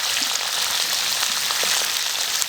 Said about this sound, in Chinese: 给它炒好了